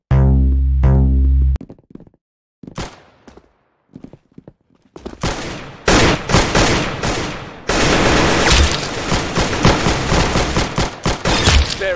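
Video game gunfire from Roblox Arsenal: loud, dense bursts of rapid shots and sustained automatic fire, broken by short pauses early on and then continuous to the end, with no talk.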